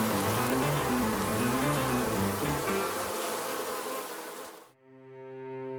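Bees buzzing in a French bedtime fairy tale, a loud, close swarm drone that fades out, then a soft musical tone takes over.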